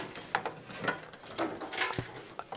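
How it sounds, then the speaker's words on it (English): A drive belt is eased off the motor of a compact tumble dryer, giving a series of soft ratcheting clicks and rubbing knocks at irregular intervals, close and fairly quiet with no talk. "Take the belt off the motor"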